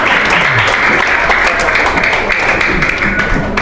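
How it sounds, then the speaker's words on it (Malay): Students at a school motivational program applaud their parents with loud, sustained clapping from a large group nearby, steady throughout with faint voices mixed in. "Okey, tepuk tangan pada ibu bapa kamu."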